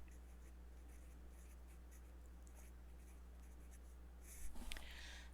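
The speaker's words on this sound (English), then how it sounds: "I'm going to do a sketch of just portion 3 to start." Pen or marker scratching steadily on a surface while a physics sketch is drawn during a lecture, faint continuous strokes over a low electrical hum, ending in a brief louder scrape.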